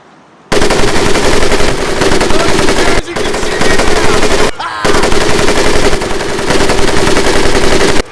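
Sustained machine-gun fire during a boot-camp drill in the WWII shooter Medal of Honor: Pacific Assault, loud and continuous with a brief pause near three seconds and another near four and a half, no talking.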